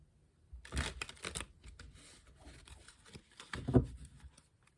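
Tarot cards being shuffled by hand, a few quick riffling bursts near the start and another riffle toward the end, close and fairly quiet, with soft card rustling in between.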